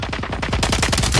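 Incoming gunfire striking the player in Call of Duty: Warzone, a loud rapid burst of automatic shots in a tight even rhythm, growing harsher and denser partway through.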